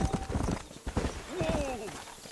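A horse clip-clops along at pace in the Red Dead Redemption game, its close, rhythmic hoofbeats joined by a brief whinny, with someone talking over them.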